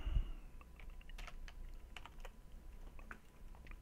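Rapid keystrokes tap on a computer keyboard during work in Maya 3D software, a quiet, irregular patter of light clicks close to the microphone.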